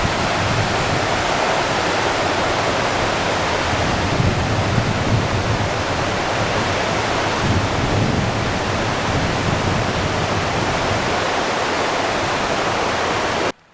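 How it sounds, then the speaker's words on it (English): The Broadwater River rushes downstream in a dense, steady roar of flowing water that stays constant and close throughout, in a backcountry setting near the Beartooth Mountains. "Downstream shot of the Broadwater River."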